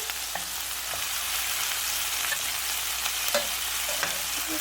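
Meatballs sizzle steadily in a frying pan, a constant bright hiss, with a few soft clicks and scrapes as they are turned.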